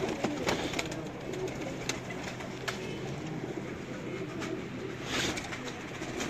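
Low, soft cooing from pigeons nearby repeats against a steady rumbling background, with a few sharp clicks and thumps and no clear speech.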